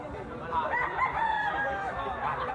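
A yellow-legged bull stag rooster crows in a drawn-out cock-a-doodle-doo, moderately close, with faint voices and farmyard background.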